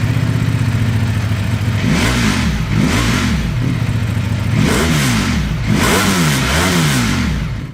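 An Aprilia motorcycle exhaust revs loudly and close by in a series of sharp throttle blips, each rising and falling, with a growling idle between them.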